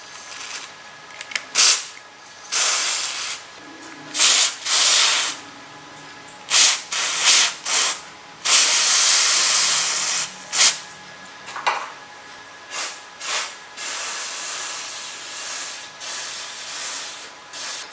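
Carburetor cleaner is sprayed onto an Optimus Polaris Optifuel multifuel stove in a series of short, loud aerosol hisses with one longer burst, separated by brief pauses.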